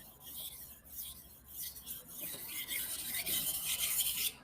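A Japanese kitchen knife is drawn across a 1000 grit whetstone in steady, close rasping strokes that grow louder and denser toward the end, with no voices.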